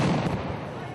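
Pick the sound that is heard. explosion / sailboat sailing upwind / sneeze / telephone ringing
explosion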